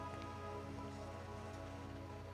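Steady rain falling in the video game Deadly Premonition, a constant even hiss of drops that stays level and unbroken with no voices over it.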